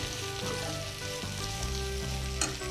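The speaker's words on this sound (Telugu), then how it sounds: "కొంచెం లో ఫ్లేమ్లోనే ఇలానే కలుపుతూ ఉండాలండి" Aloo gobi frying over a low flame while being stirred, a steady close sizzle with soft scraping strokes of the spoon running throughout and no talking.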